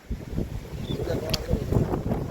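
Strong wind blows during a cyclone, a gusty roar buffeting the microphone in uneven surges, with voices talking nearby.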